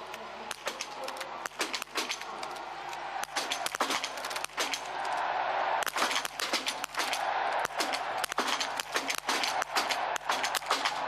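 Biathlon rifles crack repeatedly at a World Cup mass start shooting range in Oberhof, a steady rhythm of sharp, fairly faint reports from several shooters over crowd ambience and commentary.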